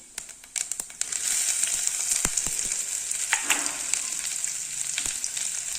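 Cumin seeds, ginger and garlic hit hot oil with a sudden crackle, then settle into a steady, close, loud sizzle with a few sharp spatters and scrapes, no voices.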